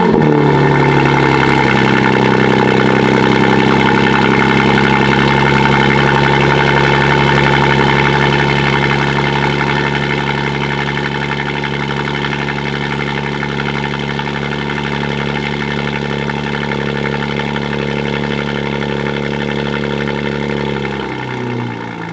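A BMW G8X engine fitted with high-flow downpipes, an active mid pipe and stock rear section idles after a cold start, a loud steady droning rumble with a fast high idle that gradually settles lower, no voices.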